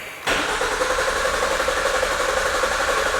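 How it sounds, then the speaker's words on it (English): A car with no fuel pressure cranks over without catching, the starter turning the engine in a loud, steady, continuous churn that kicks in abruptly after a brief quiet moment. "Now I'm going to crank the car over and see if we get any fuel pressure"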